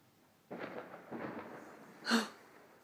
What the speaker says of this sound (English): Some people celebrate with fireworks.